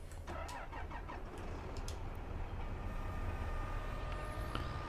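A tractor with a drill attached starts up in Farming Simulator 22, a low, fairly quiet engine rumble that settles into a steady idle alone, with a few short clicks early on.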